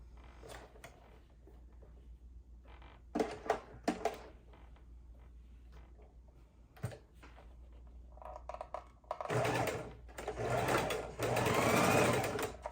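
Sewing machine stitching rows of pinwheel quilt blocks, with short mechanical bursts and clicks early, then a longer continuous loud run of stitching near the end.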